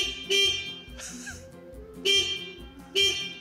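A CF Force 1000 ATV horn honks three times in short, loud blasts, separated by pauses, with quieter mechanical background noise between them.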